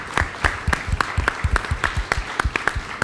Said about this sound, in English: I want to just offer a round of applause for how far you've absolutely. come.